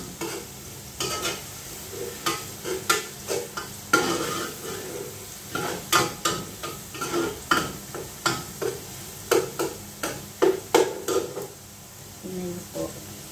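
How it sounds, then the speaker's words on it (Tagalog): Onion and garlic sautéing in oil left over from frying kebab, with repeated bursts of sizzling as the pan is stirred and scraped, each stroke bringing a crackling swell over a steady low hiss. "Yung pinanggisa ko po na mantika, yun po yung galing sa kebab na pinirito."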